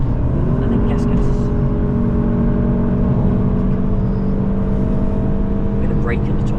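A car on the Nürburgring track drones steadily with a loud, sustained engine note and constant road and wind noise, audible from inside the cabin.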